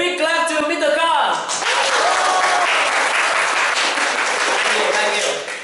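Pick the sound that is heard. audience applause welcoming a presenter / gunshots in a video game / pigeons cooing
audience applause welcoming a presenter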